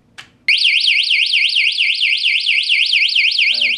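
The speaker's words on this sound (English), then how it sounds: "now I'm going to pull this thing out, and we will hear a very loud alarm" A keyless bike lock alarm blares a very loud, continuous warbling electronic siren that rises and falls rapidly, starting after a brief click and running for several seconds close to the microphone.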